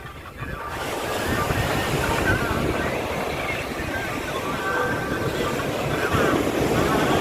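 Sea waves wash onto the beach at Poovar, Kerala in a steady broad surf roar with wind noise across the microphone, while people talk over it.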